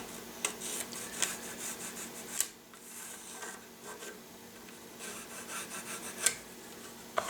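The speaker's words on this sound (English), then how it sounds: "simply file and rasp right up to those lines." A file and rasp work the edges of a wooden patchbox lid in a gunsmith's shop, making repeated scraping strokes in an uneven rhythm. The strokes sound close and moderately loud, with no talking.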